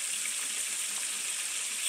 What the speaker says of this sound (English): Still around 300 degrees, but they are frying beautifully.